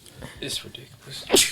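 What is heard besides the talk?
sneeze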